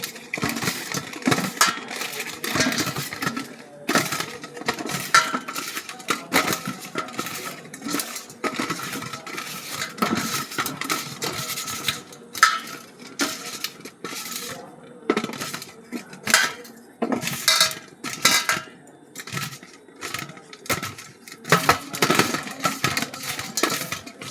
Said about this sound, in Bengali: হলুদ গুঁড়ো, লবণ, সব একসঙ্গে মেখে নেব।